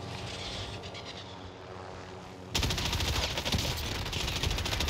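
Helicopter in the shooter Warzone, a steady engine drone that suddenly grows louder and harsher midway, with rapid rattling pulses layered over it and no talk.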